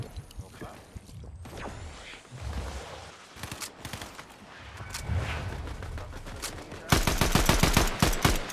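Gunfire in the video game Fortnite, scattered single shots and short bursts early, ending in a loud rapid automatic volley, with a voice in the background.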